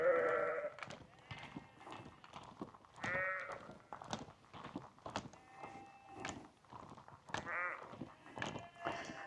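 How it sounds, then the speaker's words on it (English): Sheep bleating on a hill farm at Ebrington Hill in Warwickshire: repeated bleats from several animals, some near and loud, with softer calls and faint footsteps between them. "Some sheep sort of ran through it, so I don't know where the sheep are going."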